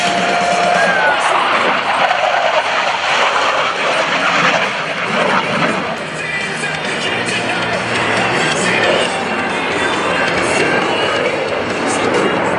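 US Navy Blue Angels jets roar overhead at the 2015 Rhode Island ANG Open House airshow, a loud sustained engine rush that swells and fades slightly while the crowd murmurs below.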